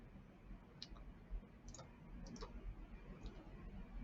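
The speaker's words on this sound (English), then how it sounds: "So I'm going to right click again." A computer mouse right-clicked at a desk, giving a few faint, sharp clicks spread over a few seconds against quiet room hiss.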